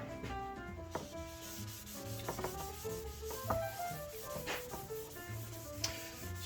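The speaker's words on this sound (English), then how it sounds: "Scraping off the excess stuff." A walnut wood board is scraped by hand in a series of short, repeated scraping strokes, close and fairly quiet, with scattered clicks and rubbing between passes and no talking.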